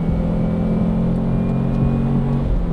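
A Subaru Impreza WRX engine with a manual gearbox hums steadily with a low rumble, holding a sustained drone with slight rises suggesting revving, close and continuous without any talking.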